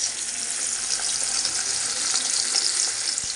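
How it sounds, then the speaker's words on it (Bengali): Four pieces of fish frying in oil in a wok give a steady, bright sizzle that holds at an even level throughout, with no talking. "এখানে আমি মাছ ভাজা বসিয়ে দিয়েছি, কড়াইয়ে আছে 4 পিস মাছ"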